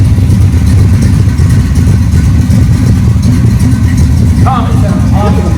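A 1967 Camaro RS/SS convertible engine with a Rochester Quadrajet carburetor idles steadily with a slight lope, loud and close, a dense low rumble throughout while a person talks over it.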